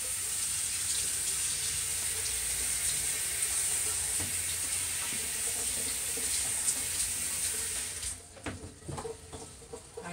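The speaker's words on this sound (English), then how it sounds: "just like how I wash the scallion and the thyme" Tap water runs steadily into a sink as scallion and thyme are washed by hand, a close, even hiss that cuts off near the end and leaves faint handling noises.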